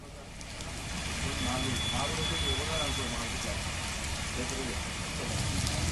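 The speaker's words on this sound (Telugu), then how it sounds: "ఉప్పల్లోనూ భారీ వర్షం పడుతుంది." Heavy rain pours down in Uppal, Hyderabad, a steady dense hiss of falling water that lasts throughout, with a voice talking over it.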